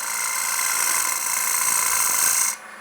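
A quarter gouge taking a gentle cut on timber while turning a bowl on a wood lathe, a steady high whirring cut that cuts off abruptly near the end, leaving the quieter hum of the lathe, no talking.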